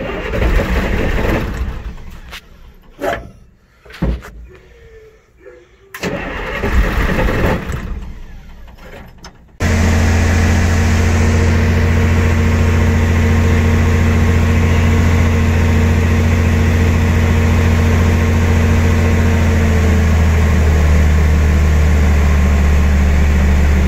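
Engine cranks and catches after a shot of starter fluid, then settles into a loud, steady idle that runs on without a break; several short mechanical bursts and clatter come before it fires.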